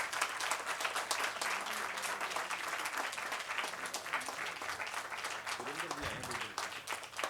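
An audience at an outdoor Hindi poetry gathering breaks into sustained, dense applause, with a voice briefly heard over the clapping.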